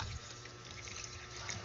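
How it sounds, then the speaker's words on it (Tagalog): Coconut milk from the first pressing pours steadily into a pot holding lobster, a soft continuous liquid trickle, fairly faint, with no voices. "Tapos po ilalagay ko na rin itong unang piga ng niyog."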